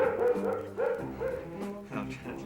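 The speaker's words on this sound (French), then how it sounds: "si le chien jappe, ça veut dire qu'il y a un voleur certain" A dog barks several times in short bursts at moderate distance, the yaps spaced out over a low steady background.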